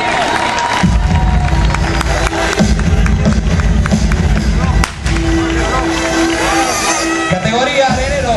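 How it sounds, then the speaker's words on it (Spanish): A crowd applauds and cheers an athlete at a sports awards night, producing a loud, continuous wash of clapping and hubbub with a voice mixed in. "El aplauso para Juan Carlos Bélica."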